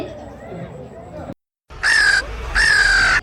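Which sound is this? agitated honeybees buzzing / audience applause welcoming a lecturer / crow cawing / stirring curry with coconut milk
crow cawing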